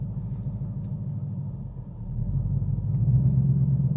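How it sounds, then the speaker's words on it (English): Idling engine of a 2018 Ford Mustang Performance Pack with manual gearbox and 3.73 gears, a steady low rumble that swells slightly louder as the clutch is let out, with no talk. "Let go of the clutch. And it revs up on its own."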